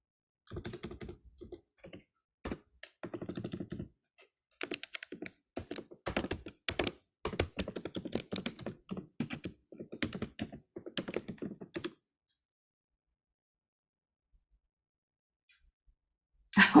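Bursts of close typing on a computer keyboard, quick uneven clusters of key taps and thunks separated by short pauses, then near silence before a final clatter.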